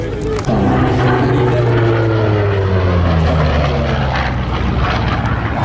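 Lockheed P-38 fighter plane's piston engines droning at the Duxford Flying Legends airshow, a loud sustained roar with a falling pitch as it passes, continuous and close, with crowd and commentary faintly mixed in.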